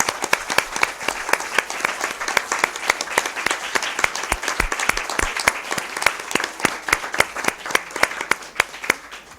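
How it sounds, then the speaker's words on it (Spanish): Sustained audience applause after a harp performance, dense steady clapping from a sizable crowd filling the room, loud and even throughout with no voices over it. "Pues un aplauso"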